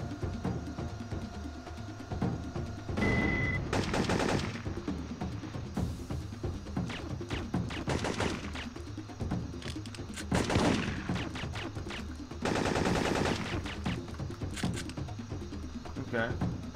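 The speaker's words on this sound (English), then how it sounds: "This jungle looks like it's littered with automated turrets." Automated turrets fire bursts in a jungle level of the video game Syphon Filter 3, moderately loud against a steady game soundscape, with a few sharper volleys spread through it.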